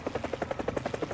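Rotor blades of a helicopter in the combat game War Thunder thump in a steady, rapid rhythm, about ten beats per second, close and continuous with no talking.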